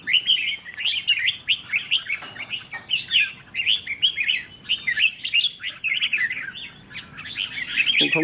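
Caged lure birds chirp and tweet in quick, repeated bursts of bright calls, loud and close, continuing almost without pause over a faint outdoor background.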